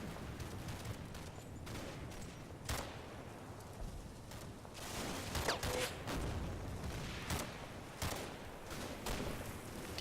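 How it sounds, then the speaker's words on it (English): Heavy suppressing gunfire in a war video game, a dense, continuous clatter of shots with sharper cracks and bursts standing out against a loud rumbling battle background. "I advance using heavy suppression fire."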